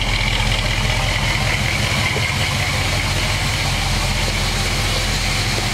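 A 1965 Ford Mustang coupe with trumpet exhaust tips idles steadily and continuously, a low rumbling engine note close by with no talking.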